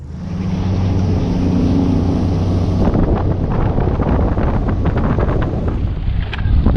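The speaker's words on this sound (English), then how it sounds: "We got a little bit of wind." Wind buffets a small fishing boat on Lake Havasu in daytime, a loud continuous rushing roar over the microphone with a low hum underneath and occasional gusty crackles, no talking.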